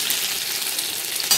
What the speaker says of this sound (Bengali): দেখো আমি তেজপাতা জিরে ফোড়ন দিয়ে আমি কিন্তু আলু ভাজাটা বসিয়ে দিয়েছি